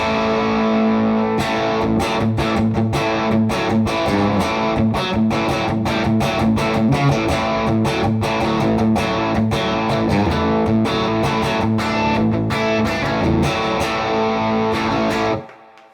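Heavily distorted electric guitar chords strummed in a steady rhythm through a Valeton GP-5 multi-effects preset, washed in reverb, playing alone and ringing out at the end.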